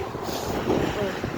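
Strong wind rushes outdoors in a yard during autumn leaf fall while grapevines are being pruned, a steady, buffeting roar close to the microphone with no pauses.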